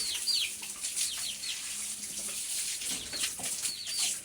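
Water pouring and splashing steadily while pigs are bathed inside a pen, with chickens clucking and crowing nearby in the background throughout.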